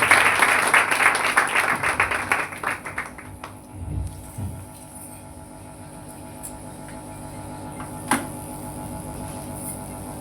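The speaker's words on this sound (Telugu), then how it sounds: "అందరూ చప్పట్లు కొట్టి ఆయన" A church congregation breaks into a burst of applause that fades within a few seconds, leaving a low mains hum and a single faint tap later on.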